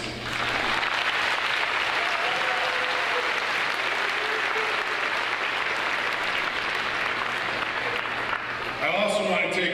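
A graduation ceremony audience applauds in a sustained, even roar of many hands clapping, with a low hum underneath and a voice returning briefly at the very end.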